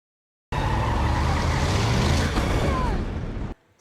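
Cars skidding during a chase scene in Wonder Woman 1984, a loud continuous rush of engines and squealing tires that swells and then cuts off abruptly, with a faint voice underneath.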